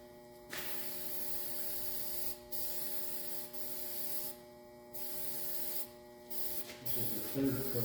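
Spray gun applying a third coat of paint to a Chevrolet Astro van, a series of hissing spray bursts of a second or two each with short gaps, heard over a low electrical hum.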